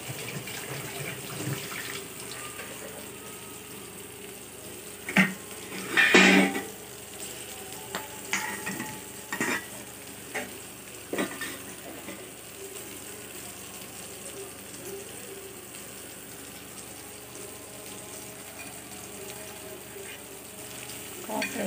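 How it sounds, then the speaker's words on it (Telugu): Pieces of ivy gourd (dondakaya) fry in a nonstick pan for dondakaya 65, giving a steady soft sizzle with a few louder stirring clatters near the middle and no talking. "ఇలా ఫ్రై చేసుకోవాలన్నమాట"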